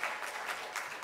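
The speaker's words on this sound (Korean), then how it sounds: "박수 한 번 더 주시면 감사하겠습니다" Church congregation applauding during a teachers' dedication worship service, a brief steady patter of many hands at low level, heard alone without talk.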